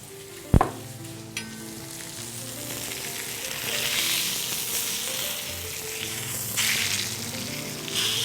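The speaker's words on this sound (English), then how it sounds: "so we have a nice sear going on there" A beef rib sears in a Dutch oven with a steady, close frying sizzle, opened by a sharp clank of the pot at the start and a second smaller knock, with no talking over it.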